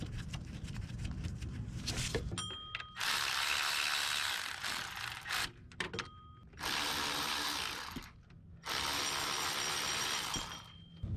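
A hand ratchet is turned with sockets on the belt tensioner of a 2007 Honda Accord, giving close, loud rapid clicking in several long bursts separated by brief pauses.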